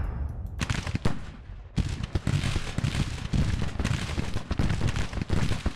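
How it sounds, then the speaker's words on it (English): Artillery bombardment in the video game Grand Tactician: dense, overlapping booms and cracks of cannon fire, one shot after another, loud and constant with no pause. "Can you get a bombardment going on in here?"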